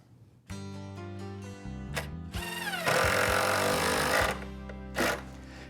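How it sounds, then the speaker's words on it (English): A power driver sinks screws into the wooden frame of a mobile lumber cart, producing loud whirring bursts that rise in pitch and strain as each screw seats, with one long sustained run and short pauses between. "it's just a matter of driving the screws in to lock it down"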